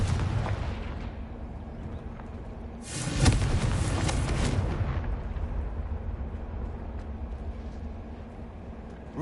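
A Confringo blasting spell from Hogwarts Legacy bursts into a loud, crackling explosion that swells for a couple of seconds over a low rumbling game soundscape, then fades back into the ambience.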